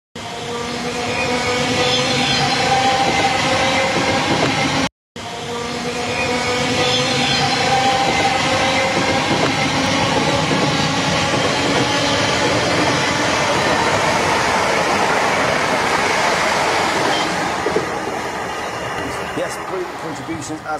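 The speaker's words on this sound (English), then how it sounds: "here it comes. The Danish engine." A Danish diesel locomotive passes on a UK railway, a loud, sustained roar of engine and rolling wheels close by for the whole stretch, briefly cut off, then fading slightly as wagons rattle past, with a voice speaking.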